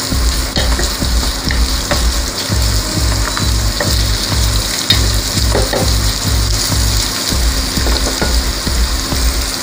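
Mixed vegetables, carrot among them, fry in a pan over medium heat, giving a loud continuous sizzle broken by rhythmic stirring scrapes and clinks, with no voices.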